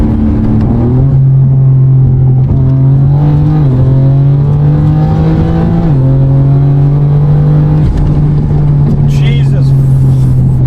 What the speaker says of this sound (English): The turbo sounds so good.